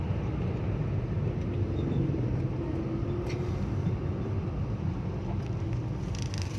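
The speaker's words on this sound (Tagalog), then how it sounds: "Sa may traffic mga idol. Sobrang traffic" Heavy road traffic crawls along with tricycles weaving among the vehicles, forming a steady low rumble of engines that stays moderately distant with no talking.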